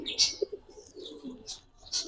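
Pigeon cooing close up, soft repeated coos with a few brighter chirpy accents across the short stretch, fairly quiet and uninterrupted.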